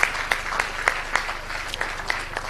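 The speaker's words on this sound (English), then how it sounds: "a very big round of applause" A youth audience at a school TEDx event breaks into sustained applause, a thick roar of many hands with a few sharper claps standing out.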